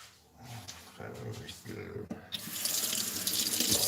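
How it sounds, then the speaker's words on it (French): Tap water runs into a kitchen sink as a knife is rinsed while cooking asparagus and monkfish, starting faint with clattering and swelling into a steady loud gush in the second half, with a voice talking early on. "Je vais rincer un peu le couteau."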